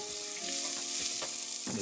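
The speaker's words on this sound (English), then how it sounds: "This lovely sizzle, you can hear that." Onions and garlic sizzle steadily in hot oil in a pan, a dense continuous frying hiss with a few soft stirring knocks, close and fairly loud with no talking.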